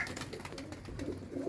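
Pigeons coo softly and steadily in low, rolling calls that overlap one another, heard fairly close and quiet with no talking.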